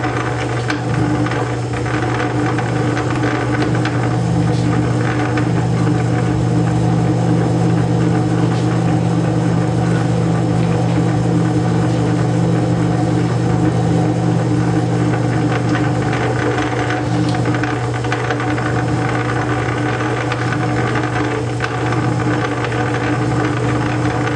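A metal lathe cuts steel while the compound slide is fed slowly, producing a steady, continuous motor drone with a low hum and faint scraping texture throughout, with no talk.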